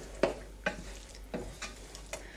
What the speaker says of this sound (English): Go ahead and stir that in.